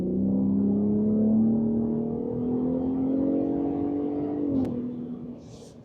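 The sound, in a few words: pickup truck engine revving, sport exhaust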